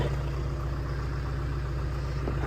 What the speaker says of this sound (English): Hopefully you guys can hear us with the tractor going behind us.